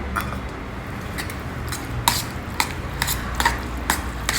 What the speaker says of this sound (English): mix it all well together